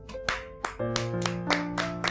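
Several sharp hand claps of thanks at home, scattered at an uneven pace across about two seconds over a sustained musical backdrop.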